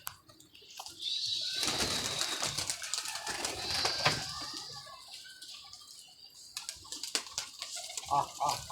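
Pigeons at a pigeon club loft coo amid a dense wash of bird chatter and chirps, steady and fairly close throughout with no clear talk over it.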